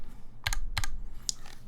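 Typing on a modded Duck Orion v3 mechanical keyboard: a few crisp, close keystrokes in quick separate clusters, clear and alone with no talk.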